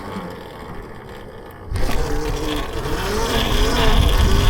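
An electric mini moto ebike pulls a wheelie outdoors in freezing weather: quiet at first, then a sudden, rising motor whine with rushing wind noise that keeps building close by.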